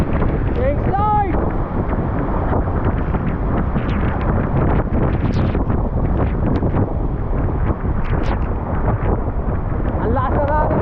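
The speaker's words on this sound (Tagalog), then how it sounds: "Ang lakas ng hangin dito." Strong wind roars across the microphone in a loud, constant rush, with brief voice-like fragments showing through.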